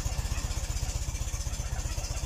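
An old Polish small car that had stood unused for a long time idles while warming up, its engine pulsing in a steady, fast, low rhythm close by, with no talk over it.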